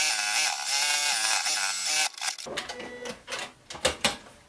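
A sewing machine runs a straight stitch around a quilted fabric pouch, its rapid mechanical whirring loud and close, then breaking into shorter uneven bursts.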